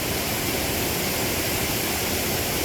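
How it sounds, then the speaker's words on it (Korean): Artificial waterfall built in a former mine, a steady, loud broadband roar of falling water that fills the whole stretch without pause. "이곳은 폐광산을 활용해 만든 인공폭포로 2008년도에 완공한 곳입니다."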